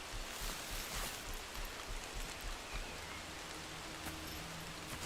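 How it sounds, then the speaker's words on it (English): Steady rain falls in the woodland game Among Trees, a soft, even wash of patter with no talk over it. "Oh, it's raining now? That's nice."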